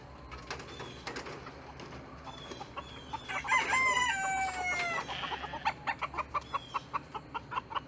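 A white Plymouth Rock rooster and hens on a homestead cluck in bursts, then a crow rings out mid-clip, followed by a run of rhythmic clucks, fairly close and clear.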